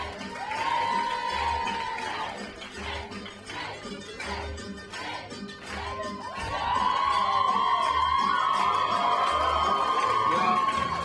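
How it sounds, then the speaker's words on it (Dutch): An audience at a stage play of Oedipus claps and cheers, with shouts and whoops over steady applause and a rhythmic thumping beat underneath, growing louder and fuller in the second half. "Applaus!"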